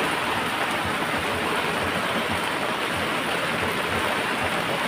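Heavy rain pours down steadily, a dense, loud, continuous hiss of drops with no pauses and no voices.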